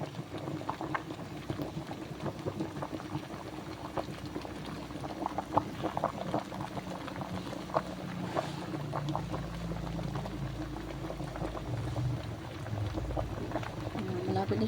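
Corn boiling in a pot, a steady bubbling, popping simmer with low rumbling water and scattered crackles, close by and continuous, with a voice briefly speaking over it.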